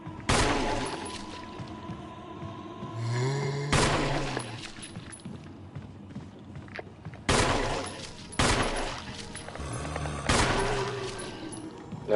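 Gunshots at a zombie in Resident Evil REbirth: about five sharp, loud single reports spaced several seconds apart, each ringing out over quiet background with a brief groan between shots.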